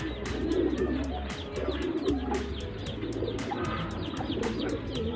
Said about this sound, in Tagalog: Ito yung ibon.